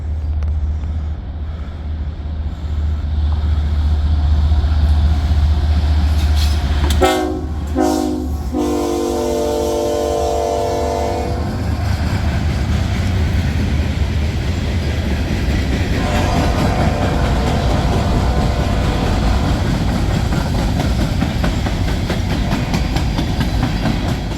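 Norfolk Southern freight train 31T, led by three GE locomotives with one trailing unit's door left open, roars past with a loud low engine drone, two sharp horn blasts, then the long steady rumble and clatter of cars rolling by.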